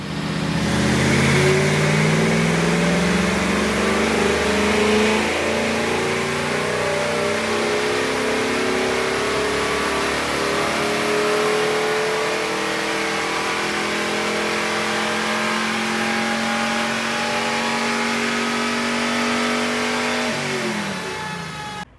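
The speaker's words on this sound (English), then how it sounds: "Underneath the bonnet of this car is a 347 cubic inch Ford V8." A Sunbeam Tiger fitted with a 347 cubic inch Ford V8 revs hard, its loud, close engine note climbing and falling in repeated sweeping pulls before settling and dropping off at the end, with no talking.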